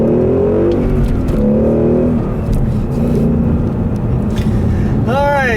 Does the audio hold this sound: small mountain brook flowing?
no